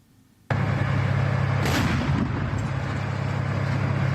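A T-72 tank firing in combat near Bakhmut: one sudden heavy blast sets off a loud, sustained roar of explosions and rumbling that fills the scene for several seconds.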